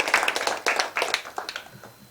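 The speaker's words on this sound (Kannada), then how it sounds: "ಜೋರ ಚಪ್ಪಾಳೆ." A short burst of hand clapping at a New Year calendar and diary launch event at a cooperative building in Malleshwaram, Bengaluru, a few close sharp claps fading over two seconds.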